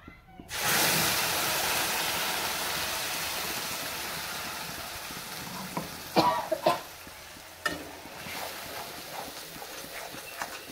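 Onion, garlic, ginger and green chili paste sizzling in oil left from frying potatoes, a sudden loud hiss that settles into a steady sizzle with scattered spatula scrapes and stirring clatter.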